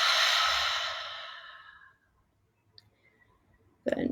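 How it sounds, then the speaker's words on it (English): A single long exhale through the mouth, loud and breathy at first and fading over about two seconds, followed by near silence with a faint click and a short rustle at the end. "Exhale out the mouth."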